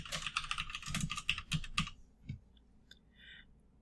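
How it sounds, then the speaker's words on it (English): Quick bursts of typing on a computer keyboard, close and clear, with a dense run of key clicks for about two seconds followed by a few scattered taps. "So I'll just type in a sample here"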